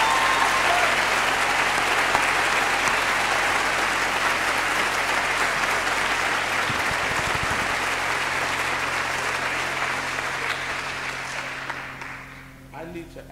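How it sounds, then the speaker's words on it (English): A large audience applauds at a gospel concert: dense, steady clapping that continues loudly for most of the stretch, then thins and fades toward the end. "Give him another hand clap for me, please."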